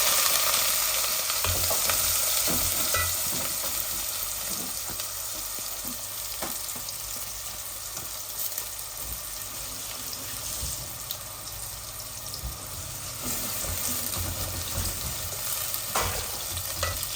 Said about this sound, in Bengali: ওই দেখো আমার জিরাটা লাল হয়ে গেছে, ও দিলাই আর পেঁয়াজ